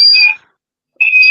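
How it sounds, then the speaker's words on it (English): An alarm gives two short, loud, shrill beeps separated by a brief silence. "I thought the government was testing the alarm system up again."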